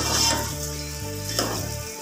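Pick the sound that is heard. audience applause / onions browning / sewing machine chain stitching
onions browning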